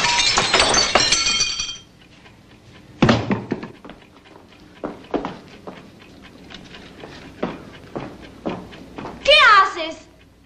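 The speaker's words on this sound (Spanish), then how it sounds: "aquí hay algo para romper el vidrio" Glass breaks in a burst of bright crashing shards, followed by scattered knocks and thuds, then a final shrill clink; people speak at points between the sounds.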